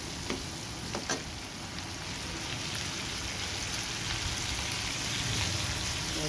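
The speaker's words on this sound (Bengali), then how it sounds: "সুন্দর করে এটা ভেজে নেবেন এই সময় লবণ দিয়ে দেবেন একটু যাতে এই তেলটা ছিটিয়ে যায় না" Giant river prawns frying in hot oil in a pan, a steady dense sizzle and crackle throughout with a few sharper pops near the start, close and fairly loud, no talking.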